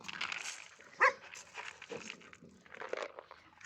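Dogs react to newly arrived dogs with a sharp bark partway through, amid faint rustling and low background noise; quiet overall with scattered short sounds.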